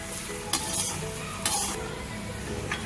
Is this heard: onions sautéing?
yes